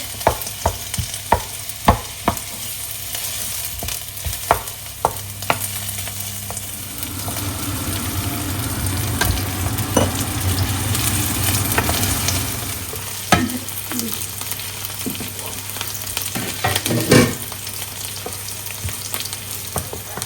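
Onions fry in hot oil in a home kitchen, loud, steady sizzling running throughout, broken by repeated sharp clinks and scrapes of a spoon stirring the pan, with a denser burst of frying in the middle.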